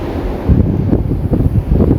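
Strong wind gusting outdoors at an amusement park, a loud, continuous rough roar buffeting the microphone with surging gusts and no voices.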